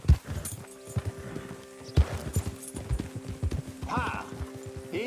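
Hooves of a horse in Red Dead Redemption 2 clip-clop in an uneven walking rhythm close by, with occasional snorts and game ambience underneath.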